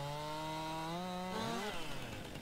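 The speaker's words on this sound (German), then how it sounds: "Dann säge ich die mal gerade um." A chainsaw cuts down a tree in the farming game Landwirtschafts-Simulator 19, its engine droning steadily before the pitch swoops and revs midway, loud and close with no talk.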